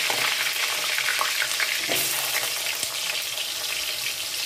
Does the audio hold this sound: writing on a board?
no